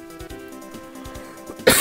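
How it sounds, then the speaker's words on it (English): A single harsh cough bursts out loudly at the end, following a quieter stretch of low background sound. "God. I have the worst cough."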